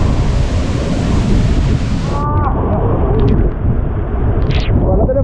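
Tiger Falls waterfall roars as a loud, close, continuous rush of crashing water, with wind buffeting the microphone and faint voices briefly heard over it.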